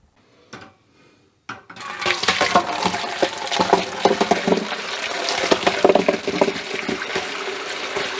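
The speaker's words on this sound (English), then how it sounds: "So we'll strain them and rinse them really well." Shallots rinsed under running water in a strainer: a couple of brief knocks, then a steady, close splashing stream that carries on to the end.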